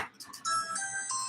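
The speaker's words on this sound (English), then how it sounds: "that's our doorbell at home" A bright electronic doorbell chime rings a short melodic sequence of sustained tones, clear and fairly close, with no talking.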